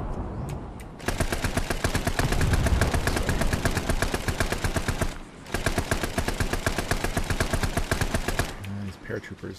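Sustained automatic gunfire in the military video game ARMA, dense rapid bursts rolling almost continuously with a short break midway, loud and close.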